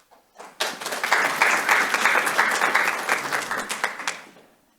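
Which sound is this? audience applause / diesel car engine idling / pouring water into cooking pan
audience applause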